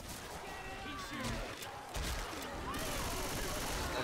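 Gunfire in an online competitive shooter match, dense bursts and crashes filling the clip continuously, loud and close, with players talking over the shooting.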